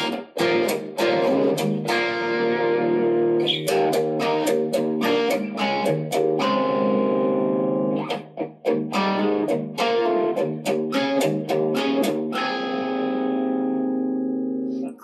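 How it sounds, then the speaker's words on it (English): A Sire T7 electric guitar through its single-coil bridge pickup with heavy distortion, chugging power chords and stabs with brief gaps and sustained ringing notes, loud and close with no voice. "So let's add some distortion to the mix, and we'll start in the bridge position."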